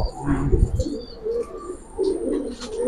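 A silver pigeon coos in a loft, a few low soft calls near at hand, with faint chirps and rustling behind.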